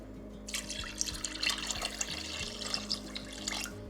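Two cups of water are poured into a cooking pot for a chicken broth dinner. The pour is a soft, steady splashing trickle that starts half a second in and runs to the end, quiet over a low background hum.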